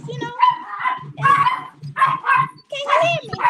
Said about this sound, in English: her dogs are off the chain